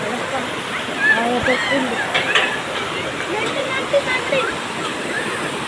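A waterfall at a hillside resort roars in a steady, full rush of falling water, with a voice talking over it.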